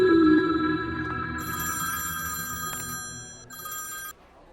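A telephone bell rings in steady repeated bursts indoors, fairly close and clear, with no talk over it before it cuts off.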